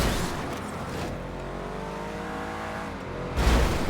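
Vehicle engine in GTA Online, driving through water, a steady loud motor drone with rising tonal harmonics throughout, ending in a louder rush of noise near the end.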